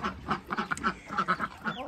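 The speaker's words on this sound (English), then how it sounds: "He's a very pretty looking duck." Several ducks quack repeatedly at a duck house, a lively cluster of close, overlapping calls in an irregular rhythm with no talking.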